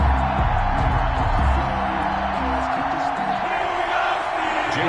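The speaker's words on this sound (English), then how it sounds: "This crowd is ready as their guys get set to match up between the Indianapolis Colts and the Pittsburgh Steelers." Stadium crowd roaring before a Colts versus Steelers kickoff in an EA Sports NFL video game, a dense continuous cheer with a commentator talking over it.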